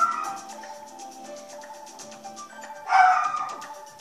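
A small dog yips and barks repeatedly, with a louder burst of barking near the end; fairly close, no talking.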